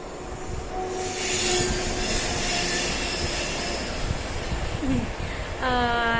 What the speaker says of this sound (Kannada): ಟ್ರೈನ್ ಹೋಗ್ತಿದೆ